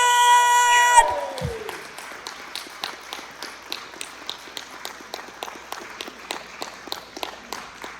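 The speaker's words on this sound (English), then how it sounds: "give a massive round of applause for" After a brief musical sting ends, sparse rhythmic clapping follows at a televised talent competition, a thin steady pattern of evenly spaced claps rather than a full roaring crowd, moderately quiet and continuing for several seconds.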